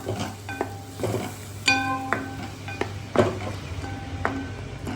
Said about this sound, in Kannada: ಈ ಗ್ರೇವಿನ ಮಿಕ್ಸ್ ಮಾಡ್ತಾ ಇದ್ದೀನಿ ಈಗ ಇದು ಸ್ವಲ್ಪ ಫ್ರೈ ಆಗಬೇಕು